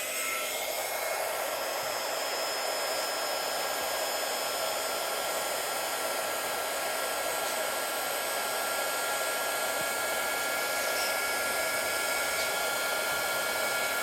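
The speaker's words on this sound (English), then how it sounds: "Let me get the dryer and dry some of this before it runs off." A hair dryer blows steadily and close for the whole stretch, drying Tonic shimmer spray on a craft project, a constant loud whoosh with no talk over it.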